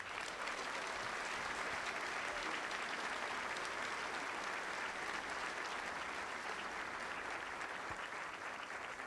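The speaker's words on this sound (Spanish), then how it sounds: "para quien pido un caluroso aplauso" Warm applause at an Ecuadorian Armed Forces change-of-command military ceremony: a large crowd claps in an even, unbroken wash that sounds fairly distant and soft.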